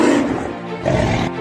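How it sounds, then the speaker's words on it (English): A tiger roars loudly and close, a deep rumbling growl rising and falling over about a second and a half, set against forest ambience. "tiger's roar echoes through the forest as it fights fiercely to protect its territory"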